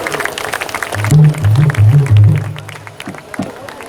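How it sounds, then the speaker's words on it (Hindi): Audience at a Shiv Charcha bhajan gathering claps, with scattered, fairly close hand claps across the clip while someone speaks loudly over them. "चलो ताली बजाओ,"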